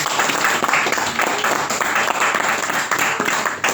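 A church congregation applauds after a French sermon passage about Bartimaeus, producing steady, dense clapping at full volume for the whole stretch without pause.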